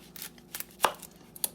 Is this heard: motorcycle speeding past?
no